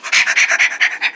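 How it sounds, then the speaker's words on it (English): An armadillo sniffs loudly and rapidly up close, a steady series of about eight breathy, raspy snuffles, each quick and regular, with no talking. "Here you go, armadillo."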